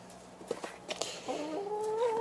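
Hens in a henhouse cluck in short, scattered calls, followed by a longer, rising squawk from one bird, heard fairly close in a quiet setting.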